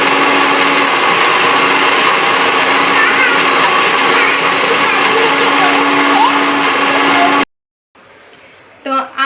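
A mixer grinder grinds onions into a paste with a loud, steady, high-pitched whirring motor drone that cuts off suddenly, followed by a short quiet stretch and some faint clattering handling noise.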